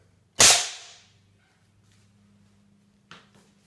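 A homemade gene gun fires once with a sharp, loud pop that decays over about half a second, followed by a faint low hum and a softer click near the end.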